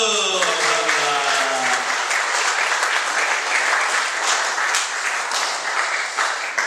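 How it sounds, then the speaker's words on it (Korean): A church congregation at a Korean Methodist Sunday service breaks into dense, sustained applause after a sung praise piece, whose fading tail opens the clip. The clapping stays steady and loud throughout. "다시 한번 박수!"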